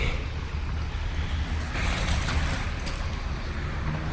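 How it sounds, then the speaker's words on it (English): Roaring floodwater rushing through a creek near a bridge, a loud continuous broadband wash with wind buffeting the microphone and no speech. "This is like a creek, and it has like roaring waters"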